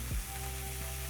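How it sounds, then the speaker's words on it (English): Broccoli hits hot cooking oil in a pan with a brief burst, then a steady soft sizzle of frying continues underneath, fairly quiet and close. "Next, I'm going to add my broccoli into the pan."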